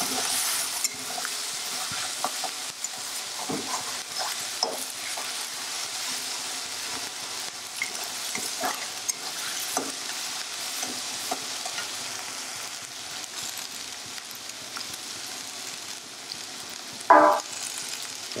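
Garlic and onion paste frying in a pan while being stirred, a steady soft sizzle with occasional spoon scrapes and clinks and one sharp clatter near the end, no voices.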